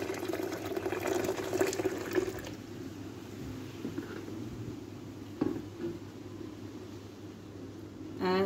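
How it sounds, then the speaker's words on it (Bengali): Milk is poured from a height into a bowl to make homemade yogurt, producing a steady, close splashing stream that changes tone midway and continues under faint background sound. "এবার আমি দুধটা দিচ্ছি দই করার জন্য"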